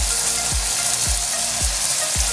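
Lamb for a vegetable lamb curry sizzles loudly in a pan over very high heat, a dense constant frying hiss with four evenly spaced scraping stirs.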